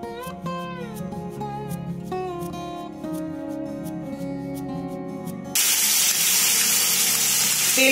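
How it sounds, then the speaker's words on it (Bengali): Onion and tomato paste hits hot oil in a pan with a sudden loud, steady sizzle that surges in abruptly partway through and holds, following quieter music. "এবারে এই পেঁয়াজ আর টমেটোর পেস্টটা আমি এটার মধ্যে ঢেলে দেব"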